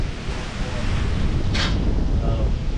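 Steady wind gusts outdoors at an engine workshop roar continuously across the whole stretch, loud and broadband, with a brief hiss partway through.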